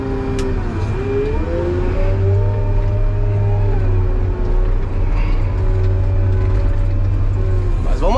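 A wheel loader's diesel engine revs loudly and steadily close by, its pitch rising and sliding between throttle changes under a constant heavy rumble.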